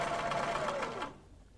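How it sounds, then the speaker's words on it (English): Sewing machine stitching fabric strip sets together with the needle down, a steady fast whirring run for about a second before it stops abruptly, close and clear with no talk. "Then, just continue your sewing with your needle down."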